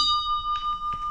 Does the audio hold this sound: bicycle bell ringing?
yes